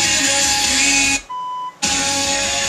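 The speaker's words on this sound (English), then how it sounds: "Let it beep." A 1969 Ford Galaxie original AM/FM car radio, an Aurora Design conversion, gives a steady electronic beep that runs loud and continuous, cuts out briefly to a quieter single tone, then resumes at full level.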